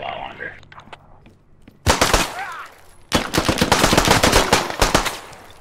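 Rapid gunfire in a multiplayer shooter played as the Marksman class, bursts of loud automatic shots after a quieter stretch, dense and continuous toward the end.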